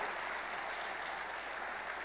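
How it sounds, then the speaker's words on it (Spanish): Congregation applauding inside a church during an evangelical service, a steady dense wash of clapping held at even volume throughout with no pauses, voices absent. "Fuertes aplausos al Señor"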